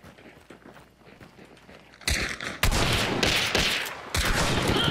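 Loud bursts of gunfire from the video game Hunt: Showdown, starting abruptly about halfway through and continuing as sustained, dense volleys after quieter background noise.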